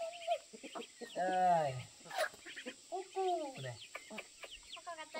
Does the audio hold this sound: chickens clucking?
yes